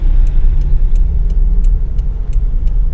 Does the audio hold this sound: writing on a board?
no